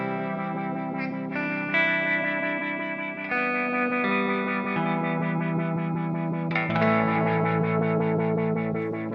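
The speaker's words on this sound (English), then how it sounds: "Now, turn the decay on the reverb up" An Old Blood Noise Endeavors Sunlight pedal spreads a long reverb decay over sustained, layered guitar chords, with the tails smearing and blending as new chords enter every few seconds.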